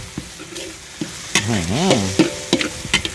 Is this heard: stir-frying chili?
yes